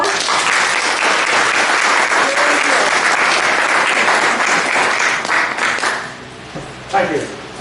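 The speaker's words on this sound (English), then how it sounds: "can we give him a round of applause?" An audience at a talk on the history of the Telford Diving Unit breaks into loud, sustained applause that fades out after about six seconds, with a voice briefly audible at the end.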